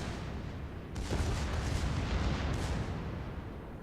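Warship guns and explosions in the naval combat video game World of Warships make a steady, dense rumble with two heavier booming blasts rising out of it, broad and distant-sounding, with no voices.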